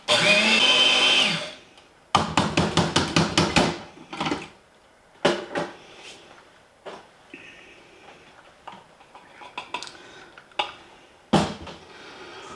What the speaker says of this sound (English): I'm going to throw all this in my spice blender here, and I'm just going to give this a couple little whirls.